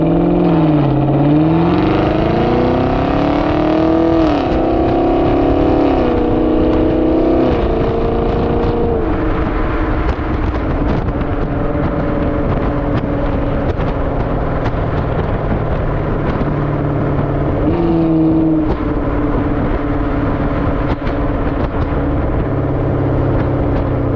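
A 2021 Chevrolet Camaro SS roars loudly as it accelerates through the gears, recorded from the back of the car, with rising engine pitch that drops at each shift before climbing again, continuous and close with no talking.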